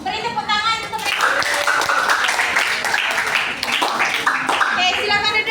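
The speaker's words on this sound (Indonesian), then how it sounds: "Beri tepuk tangan untuk mereka." An audience at a group discussion session claps steadily for several seconds, the applause mixed with voices and chatter throughout.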